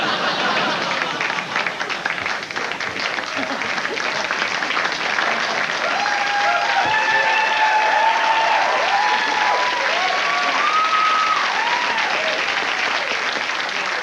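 Studio audience applause on a late-night television talk show fills the whole stretch, a dense steady clatter of many hands with faint tonal sound effects gliding over it in the middle.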